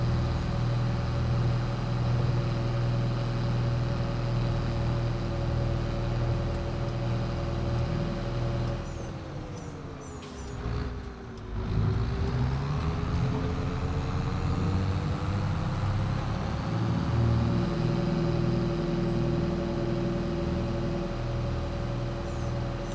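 A tractor engine drones steadily in a farming video game, a loud, continuous low hum whose pitch dips briefly and recovers midway, with no talking.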